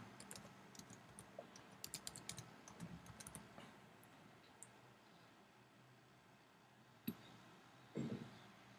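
Typing an email and a wrong password on a computer keyboard: quick, light key clicks in a close, uneven run over the first few seconds, then sparse faint taps and a couple of isolated louder clicks near the end.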